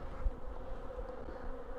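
Honey bees buzz in a continuous, soft, even drone during a check of an Apimaye hive, with no voices.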